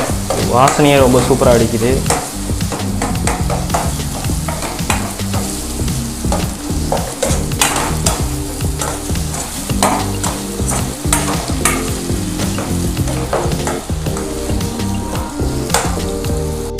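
Paneer masala for dosa sizzles and fries in a pan while a spoon stirs it, with frequent scraping and clinking against the pan over a steady close hiss; a voice speaks briefly.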